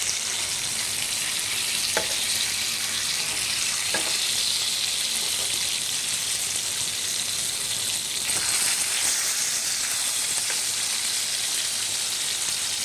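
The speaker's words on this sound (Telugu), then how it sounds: "చూడండి, ఇప్పుడు మన చేపలు బాగా ఫ్రై అవుతున్నాయి." Fish frying in a pan gives a steady, dense sizzle and crackle that runs the whole time, close by and fairly loud, with a couple of faint clicks and no talking.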